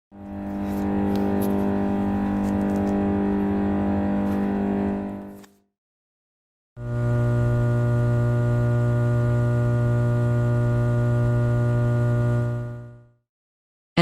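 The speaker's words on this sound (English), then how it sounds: "The electrical transformer noise." Electrical transformer hum: a buzzy low drone layered with harsher overtones and some hiss, heard in two sustained sections of about five and six seconds split by a moment of silence.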